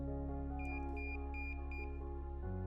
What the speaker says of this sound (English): The device will beep and the band will flash red